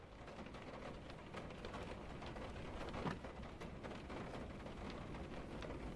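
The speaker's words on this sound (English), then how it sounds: "I must get inside before the storm." Heavy storm rain in a video game pours down as a steady, dense hiss, loud and unbroken throughout, with no voices.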